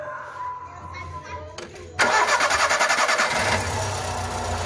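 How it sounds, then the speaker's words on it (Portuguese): A 2010 VW Fox cranks and its engine catches near the two-second mark, then settles into a steady, close idle with a rhythmic pulse, after quieter background sounds and voices. "Nós vamos dar agora uma ligada nesse carro."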